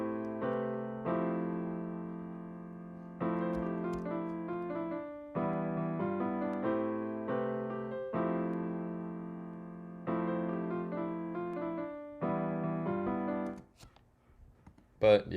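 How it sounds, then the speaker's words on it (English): AX piano in Xenology playing a repeating chord pattern for a pluggnb beat, clean sustained chords in regular phrases with short gaps, ending in a few faint clicks. "It's a piano, AX piano in Xenology."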